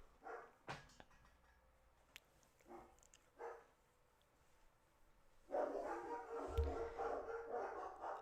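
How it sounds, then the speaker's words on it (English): Dogs barking at a distance, several scattered faint barks followed by a louder, more sustained stretch of barking near the end. "what are the dogs seeing for them to go crazy all the time?"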